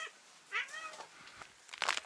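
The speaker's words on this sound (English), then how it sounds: "I think I better go feed these cats so they stop following me around." Several outdoor cats in freezing winter weather meow near the listener, a quick short cry, then a longer wavering meow, and a sharper burst at the end, with quiet gaps between them.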